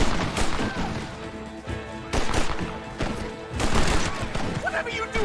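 Gunfire in the Red Dead Redemption video game, with repeated shots and bursts across the stretch, loud and close, amid clashing game noise and a voice.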